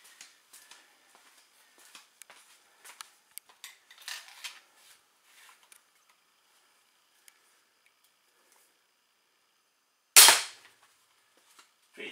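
An Excalibur crossbow fires a 350 grain bolt, giving a single sharp, loud snap near the end, preceded by quiet scattered clicks and handling noise.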